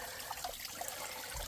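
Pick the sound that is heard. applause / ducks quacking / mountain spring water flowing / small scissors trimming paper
mountain spring water flowing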